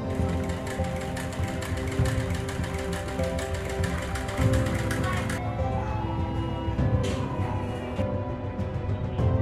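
Sewing machine running in a home, a steady mechanical whirr with rapid rattling stitches that later thins out, with indistinct voices in the background.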